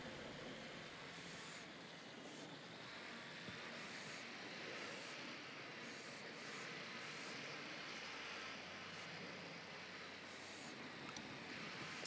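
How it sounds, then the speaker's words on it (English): A surveillance drone hovers in Ghost Recon Wildlands, a steady broadband engine whir that holds level and continuous throughout, with occasional faint higher chirps over the drone noise. "Drone is airborne."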